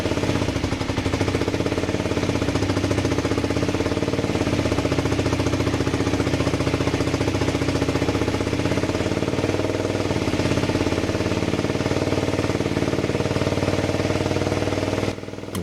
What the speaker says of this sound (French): Et ça va permettre à la moto de tenir son ralenti.